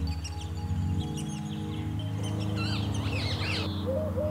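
Lesser spotted woodpecker chicks and songbirds call over a steady low hum: thin chirps and squeaky cries, growing busier and more tangled toward the end.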